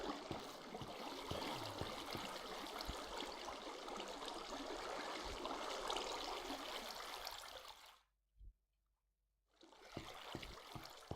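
Water flowing in Minecraft: a steady, close rushing and bubbling stream that runs continuously, cuts out abruptly near the end, then resumes after a brief silence.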